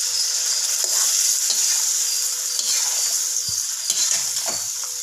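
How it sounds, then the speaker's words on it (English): Steady, loud sizzling of tomato puree frying in a pan, with occasional scraping and stirring sounds throughout. "Till then you must be frying the tomato puree."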